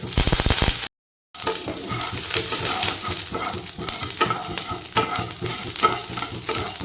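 Mustard seeds and green chillies with curry leaves splutter and sizzle in a little hot oil for vermicelli upma tempering, a steady close crackle with scattered pops and stirring scrapes, broken by a brief silent gap early on.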